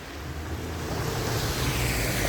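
A river in Kentau, Kazakhstan, rushes past in a steady, unbroken wash of broadband water noise, with some wind buffeting the microphone throughout.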